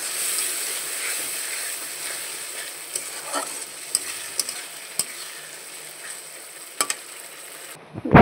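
Bombay duck fish stirs in a sizzling spice masala, with a steady close fry hiss broken by sharp clinks and scrapes of the spatula against the pan.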